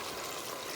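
Water pours steadily into a pot of garbure with beans and a bouquet garni, a brief, soft, continuous rushing stream.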